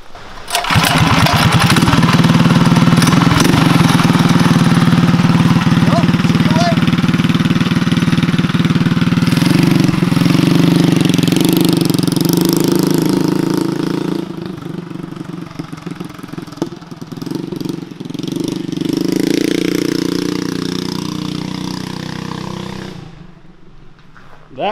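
A mini chopper motorcycle's Predator 212 engine runs loudly and steadily with a buzzing drone, revving and wavering, then fades and drops off abruptly at the end.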